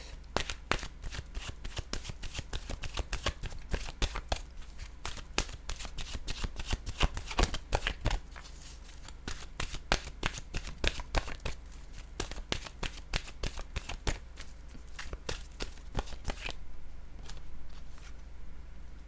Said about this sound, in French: je vais maintenant choisir de mélanger mes cartes de mon oracle de l'âme intuitive